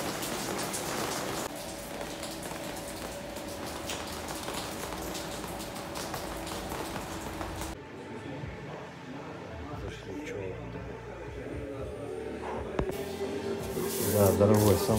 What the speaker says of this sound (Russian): А у нас на улице дождь,